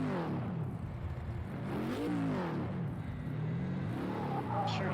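A Ford Mustang GT4 race car at Fuji GP in Project CARS 2 drives with a steady, close engine note, its pitch climbing and falling through revs and gear changes for the whole stretch.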